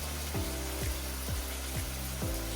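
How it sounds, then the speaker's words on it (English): Pasta cooking water poured into a pan of sizzling Datterini tomatoes sets off a loud, steady hiss with a low, rhythmic bubbling pulse repeating about every half second, close and without talk. "And we just add a little bit of the brodo della pasta."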